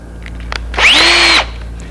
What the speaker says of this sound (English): I simply drill it.